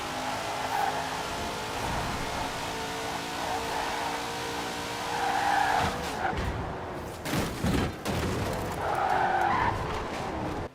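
The 1,918-horsepower Hot Wheels Twin Mill roars through a racing video game, engine revving hard with repeated tire squeals and skids in corners, plus a couple of sharp thumps near the end.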